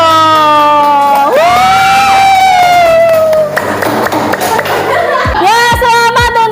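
A classroom of high-school students breaks into loud, close cheering and clapping for the winning group, with excited voices and whoops in the foreground throughout.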